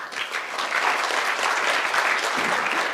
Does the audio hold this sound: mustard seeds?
no